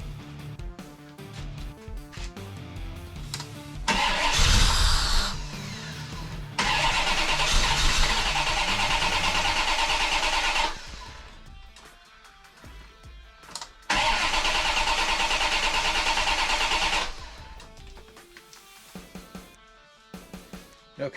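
A car engine cranks over in two long bursts, about seven and four seconds each, after its ECM, MEMCAL and MEMCAL adapter were swapped. It never catches, and there is quiet between the attempts.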